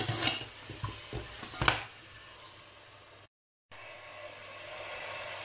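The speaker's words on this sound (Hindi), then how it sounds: "अच्छे से मिक्स करेंगे।" Achar gosht being stirred and mixed in a pan, a few quick scraping and clinking strokes of a utensil followed by a soft steady sizzle, no talking.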